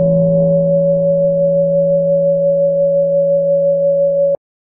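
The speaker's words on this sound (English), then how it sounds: "I'm using convolution loaded with a pad sample to diffuse the sound into something harmonically rich and consonant." A feedback loop is diffused through convolution reverb loaded with a pad sample, giving a loud, steady, sustained tone. Two pitches hold without change for about four seconds, then stop abruptly.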